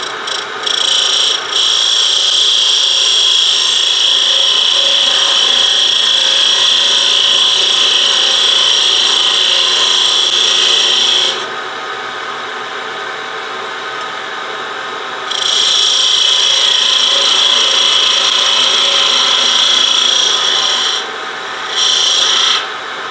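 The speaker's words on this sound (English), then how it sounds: "start cutting this section over here" A tool cuts a wooden spin top spinning on a lathe, giving a loud, steady high rasping hiss that stops for a few seconds, resumes, then breaks off briefly again near the end.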